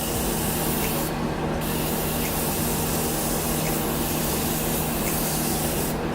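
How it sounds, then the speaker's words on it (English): Continuous fine misting spray of setting spray onto a face hisses close by for several seconds, steady and unbroken with no voices. "I'm just going to be spraying this on my face."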